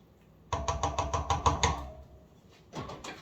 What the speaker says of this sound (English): Stir my broth up.